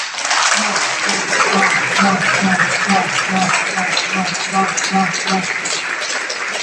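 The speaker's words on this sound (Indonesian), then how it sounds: "Sekali lagi kita beri aplaus" An audience applauds at an annual session of the National Parliament of West Papua in Holandia, with steady sustained clapping through the whole stretch and a voice speaking over it.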